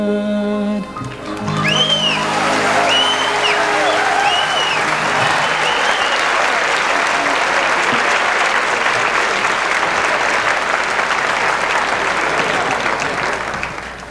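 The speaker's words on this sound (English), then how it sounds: "Why are you cheering?" Theatre audience at a 1986 Inner Circle comedy show bursting into loud, sustained applause with whoops and cheers, rising just after a moment of voices and filling the room for over ten seconds.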